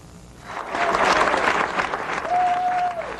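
Applause from a group of people in an office after an election loss, a dense burst of clapping that swells and holds steady, with a brief high electronic tone near the end.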